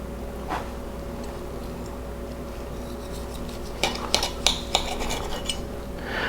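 A knife and fork cut into a roasted beef braciole roll stuffed with shrimp. A quiet background hum runs under a handful of sharp metallic clinks and scrapes that cluster near the end.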